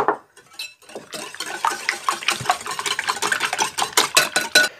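A fork or whisk beating eggs with salt, pepper and paprika in a bowl makes a fast, loud run of rhythmic clinks and scrapes that quickens after a brief pause, with no talking.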